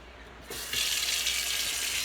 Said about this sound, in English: Just a deep pot, and I'm going to run some hot water in it.